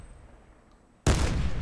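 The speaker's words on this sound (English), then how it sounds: "I'm missing every shot" Gunfire in Call of Duty: after a quiet lead-in, a sudden loud burst of rapid shots erupts and continues to the end.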